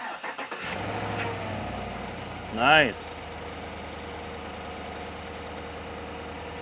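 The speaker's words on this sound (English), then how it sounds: "if you can start the engine for us, please." A truck engine cranks briefly and catches, then settles into a steady idle with electric fan noise audible; a voice speaks a short word near the start.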